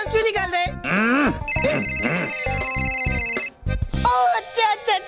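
A man imitates a telephone ringing with his voice, a repeated warbling ring pattern, loud and close, amid other voices talking around him.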